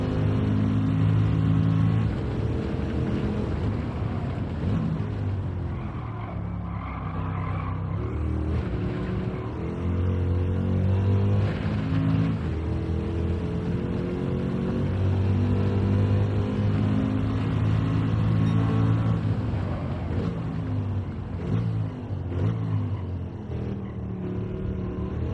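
A car engine revving and pulling hard through gears during a lap in Gran Turismo 7, loud and continuous with rising and falling pitch, close and steady throughout.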